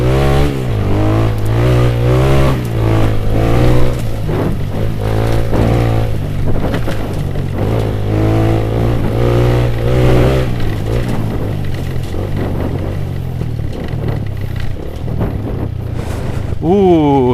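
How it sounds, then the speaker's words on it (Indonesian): A Suzuki Satria FU motorcycle with semi-slick tyres is pushed hard on an off-road track beside a sugarcane field, its engine droning and revving in a loud, rising and falling wail with wind buffeting the microphone throughout. "Ternyata motor saya kalau mengamuk seperti itu ya guys"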